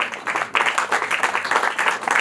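A short burst of lively applause from a wedding crowd, many hands clapping together at close range.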